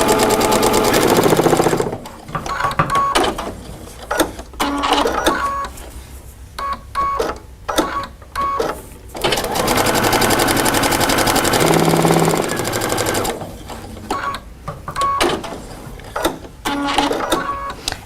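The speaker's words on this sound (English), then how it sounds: "When you get to the corner, you can just pivot right where it meets and keep sewing." A sewing machine stitching across a quilt corner, its fast mechanical whir running in bursts broken by short pauses for pivoting, close and loud with no talk over it.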